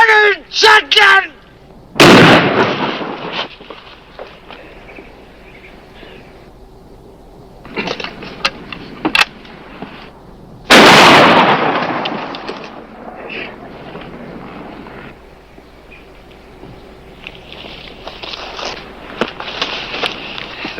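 Shotgun blasts ring out in a western TV series gunfight, two loud booming shots several seconds apart with echoing tails, plus scattered smaller clicks and impacts amid tense background sound.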